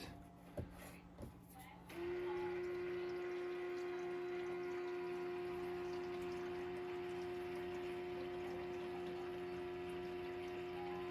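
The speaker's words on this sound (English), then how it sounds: "As you can hear, here it is, the water start running." After a couple of faint clicks, water starts running in an Insignia NS-IMP26SLO ice maker with a steady hum that continues evenly and quietly to the end.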